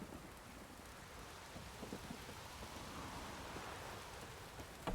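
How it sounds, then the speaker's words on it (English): A thunderstorm in The Witcher 3 brings steady, fairly quiet rainfall with low rumbling thunder underneath. A louder burst comes right at the end. "A storm, damn it."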